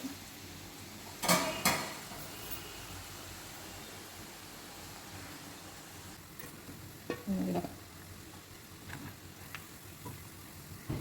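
Chicken liver and heart frying in plenty of oil, a steady low hiss of frying with occasional louder scraping and clinking of a utensil in the pan.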